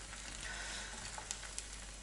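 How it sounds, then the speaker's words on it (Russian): Store-bought pelmeni dumplings sizzle and spit in a hot frying pan, a steady frying hiss with a couple of sharp pops, close and without talk. "И последний 20-й пельмень полетел в мою сковороду."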